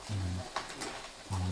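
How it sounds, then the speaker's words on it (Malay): Cockles are tossed into a hot pan and stirred, producing a brief sizzle with a couple of sharp shell knocks. A low voice-like tone sounds at the start and end. "Kita masukkan sekali kerang. Dengar bunyi kerang tu."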